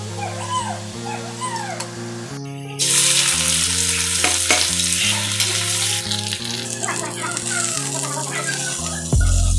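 Onions and salt frying in a pan, a steady loud sizzle with stirring scrapes, joined by strong tonal whining and harmonic squeals that sound like a dog whimpering nearby.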